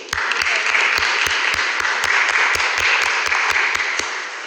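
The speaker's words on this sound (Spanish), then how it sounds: "Despedimos con otro aplauso a Triagrama." Audience applause for the organization Triagrama at a human rights subcommittee hearing: a loud, continuous wash of clapping with a regular low thump pulsing steadily underneath.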